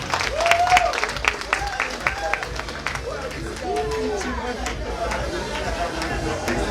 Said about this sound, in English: ladies and gentlemen, give the co-worker a round of applause, please